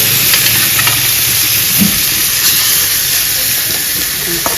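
Small fish frying in oil in a pan for a Bengali fish curry, a loud, continuous hissing sizzle with faint stirring clicks, close and steady throughout.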